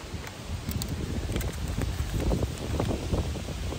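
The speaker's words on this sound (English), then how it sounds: "It's a windy day." Gusty wind buffeting the microphone outdoors on a cool, desolate July day at a ranch site, a steady rumbling roar with bursts of rustling and no voices.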